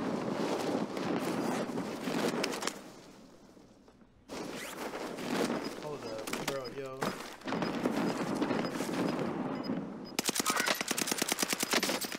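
Rapid bursts of gunfire in a Fortnite-style battle royale video game, with a dense rattle of shots near the end and game effects and talk mixed in elsewhere.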